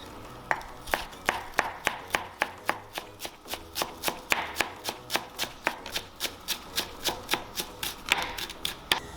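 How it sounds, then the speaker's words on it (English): Knife chopping fresh parsley on a cutting board, a long run of quick, evenly spaced sharp taps at close range with no talking. "we're going to go ahead and cut up some parsley"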